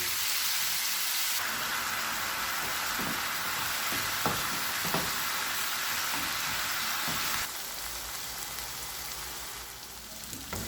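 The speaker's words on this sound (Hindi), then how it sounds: "चार से 5 मिनट तक चिकन को पका लेंगे" Chicken sizzles steadily while it cooks in a pan, with a dense, continuous frying hiss, a few scattered pops and stirring clatters, and a slight drop in level toward the end.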